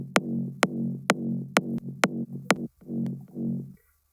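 Big-room electronic kick drum made in FL Studio with no LFO tool ducking, hitting six times in a steady rhythm with a heavy sustained low body and sharp clicky transients, ending with a couple of shorter bass tails.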